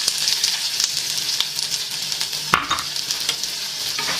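Sliced tomatoes and onions sizzle in a tablespoon of oil while being stirred, a steady bright frying hiss broken by scraping stir strokes and a sharper clack near the middle.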